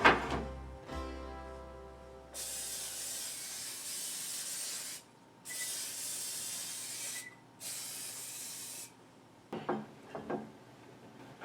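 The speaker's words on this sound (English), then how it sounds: "going to spray the casserole dish here" A can of cooking spray hisses in three steady bursts onto a casserole dish, separated by short pauses, followed by a few soft clunks of handling in a kitchen.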